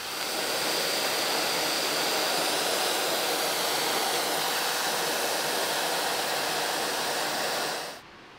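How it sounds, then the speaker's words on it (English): A workshop vacuum runs with a loud, steady whoosh beside the drilling of a retainer on a restored 1943 StuG III ZF gearbox, then cuts off abruptly near the end. "Beau positions a vacuum to where the drill will punch through."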